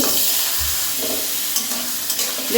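Soaked, drained rice being stirred and fried in ghee in a wok, giving a steady soft sizzle with scraping stir strokes, close and alone with no talking.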